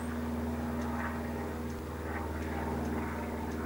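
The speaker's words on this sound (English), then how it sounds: "Do you know, I want to shoot down that plane." A propeller airplane drones steadily overhead, a continuous loud engine hum with a constant low tone and a rough, airy wash above it, lasting the whole stretch with no talking.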